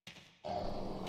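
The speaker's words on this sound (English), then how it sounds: "What is that? Dogs." Enemy dogs in Resident Evil Code Veronica X give a short, rough growling snarl, a brief gruff burst followed by a louder sustained rasp.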